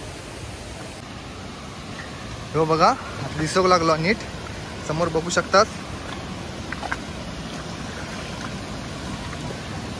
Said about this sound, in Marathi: तुमका दाखवतोय मी कसं काय धबधबा होतो